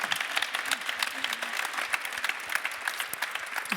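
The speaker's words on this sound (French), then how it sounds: "Je pense qu'on peut applaudir Isa Bernardino." A conference audience at a round-table panel claps steadily in a room for a few seconds, with dense, even applause at moderate volume.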